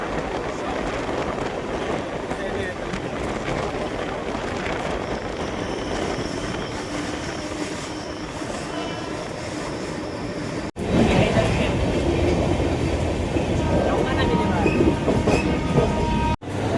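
A crowded Mumbai local train rolls along, a loud continuous rumble with rhythmic wheel clatter and rattling from inside the coach, growing louder after a short break, with faint voices mixed in.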